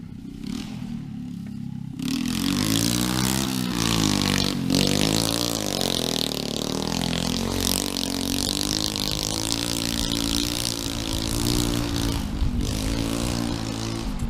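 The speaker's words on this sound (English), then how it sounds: "freaking tearing it up on that little pit bike" A small pit bike being ridden hard, its engine revving and wavering up and down continuously, loud and close after a short quieter start, with some clatter and scraping mixed in.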